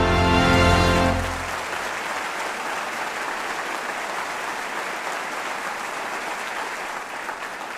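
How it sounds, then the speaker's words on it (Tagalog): A church audience claps during a broadcast service, the applause dense and sustained throughout, sitting beneath a brief stretch of sung or sustained tone at the very start that fades after about a second. "Nakakatuwa talaga kayo. Lagi kayong pumapalakpak."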